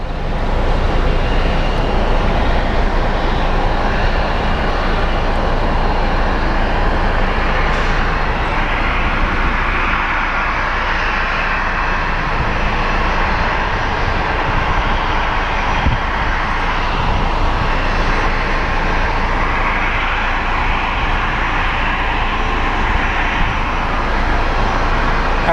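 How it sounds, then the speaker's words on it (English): Jet airliner engines at Sky Harbor International Airport, a constant loud broadband roar and whine that holds steady throughout without a break. "over there, the CS series, the Airbus A220."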